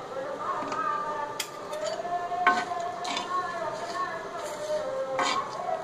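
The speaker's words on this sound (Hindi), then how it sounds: "और अब हमें हल्की आंच पर ये सारे मसाले भूनने हैं।" Sambhar masala spices and chillies are stirred in a pan over low heat: a soft, steady sizzle with scraping strokes and occasional light clinks of a spoon, beneath a talking voice.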